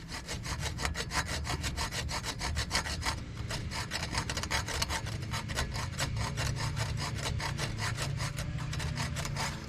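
A hand saw cuts back and forth through the steel bolt and nut of a control arm on a 2002 Infiniti I35, giving steady, rapid rasping strokes that continue close and loud without pause.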